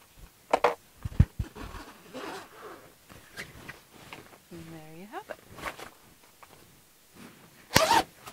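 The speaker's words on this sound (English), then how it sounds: "you can unzip it and zip it with no issues" A jacket zipper is run open and closed several times after a misaligned zipper repair, giving short, scratchy zips at close range. Brief talk is heard between the strokes.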